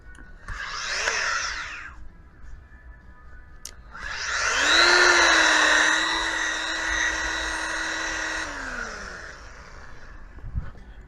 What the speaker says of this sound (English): I'm going to try buffing it off real quick